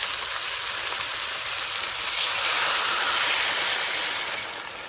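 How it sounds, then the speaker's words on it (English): Steady broadband hiss and bubbling as water simmers in a pot of lamb neck-bone stew, continuous and fairly loud with no voices. "You hear the different sound because I have added the water"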